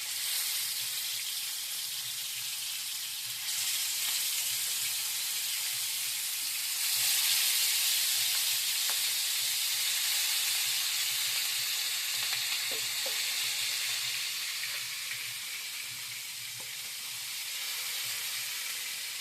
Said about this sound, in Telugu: ముందుగా స్టవ్ వెలిగించుకొని కళాయి అయితే పెట్టేసుకొని ఆయిల్ అయితే పోసేసుకొని లెగ్ పీసులు కూడా ఫ్రై చేసేసుకుందాము.